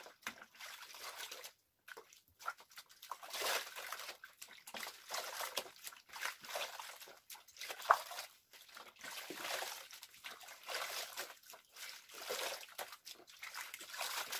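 Water rinsing through Brazilian hair in a salon wash, soft intermittent splashing and trickling in uneven bursts, fairly faint and close.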